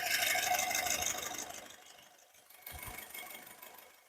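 A 2017 Honda City VX petrol car engine idles with a steady mechanical hum that fades down, then picks up again with a couple of low thumps, no voices.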